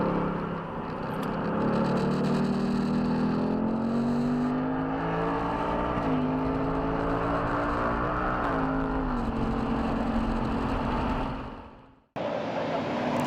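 Race car engine droning loudly from inside the car during lead-follow laps on the roval, its pitch rising and dipping through gear changes with steady road and wind roar, cutting off abruptly near the end.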